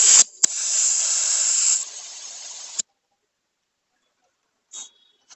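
Steady high hiss of compressed air being pumped into a 500cc Royal Enfield motorcycle tyre during puncture repair, running for about three seconds with a brief click, then silence and a short faint hiss near the end.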